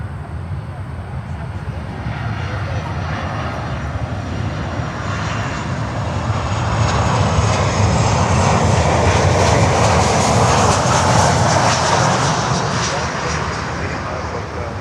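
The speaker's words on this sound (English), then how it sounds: "Wow, that was a heck of a takeoff." A jet airliner takes off at Miami airport, its engines building into a loud, sustained roar that swells midway and holds strong, broad and continuous for the whole stretch, with a voice briefly talking over it.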